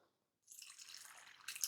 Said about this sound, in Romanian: Punem de asemenea apă